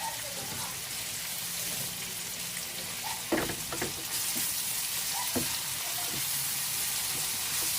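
Escabeche frying and being stirred in a pan gives a steady sizzle, with a few scraping and clinking knocks from the utensil against the pan partway through, close and moderately loud.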